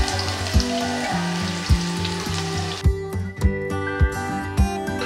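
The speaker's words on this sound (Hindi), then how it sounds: "अब घी के अंदर हम प्याज डाल के इसको गोल्डन ब्राउन कर लेंगे।" Chopped onions sizzle steadily in hot ghee in a cooking pot as they fry toward golden brown, a continuous close hiss running under rhythmic, beat-driven music throughout.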